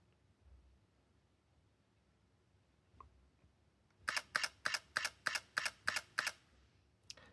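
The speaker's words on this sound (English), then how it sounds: "now if I press the shutter button" A quick, evenly spaced burst of about eight camera shutter clicks during focus bracketing with a Laowa 180mm f4.5 macro lens, close and crisp, following a few seconds of near silence.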